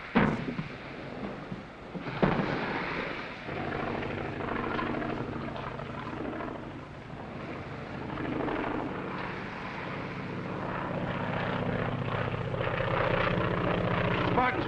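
An airplane engine drones steadily in a 1940 South Seas adventure film, a low propeller hum growing gradually louder as it approaches, with a sharp thump early on.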